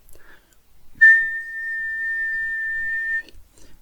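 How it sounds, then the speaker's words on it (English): A single steady whistled tone holds one pitch for about two seconds, clear and close, with faint rustling before and after. "we can see that whistling creates one specific frequency"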